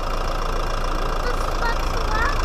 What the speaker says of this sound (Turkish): Şimdi kapatıyorum motoru.